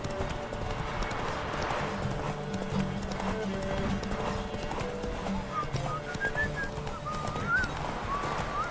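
Horse hooves clip-clop in a steady trotting rhythm in the video game Witcher 3: Wild Hunt, with a whinny and game music tones playing underneath.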